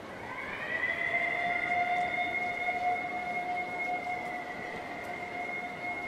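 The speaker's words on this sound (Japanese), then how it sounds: "このサイレンは強軍の襲撃だ。" A long, steady alarm siren sounds in the Hokuto Ga Gotoku video game, rising briefly and then holding a sustained wailing tone under a low background hiss.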